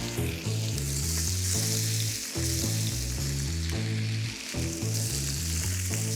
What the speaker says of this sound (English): You just want to hear the sound of a sizzle.